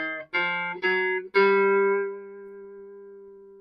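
Guitar notes from a blues scale with the root on the fifth string, picked one at a time: three short plucked notes, then a fourth left ringing out and slowly fading, played alone and close.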